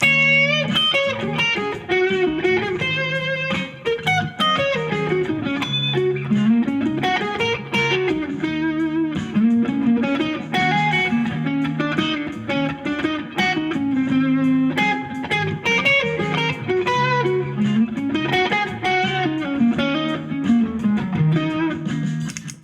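A distorted electric guitar plays a long, busy minor pentatonic lead line of fast bends and runs over a steady backing, loud and continuous throughout.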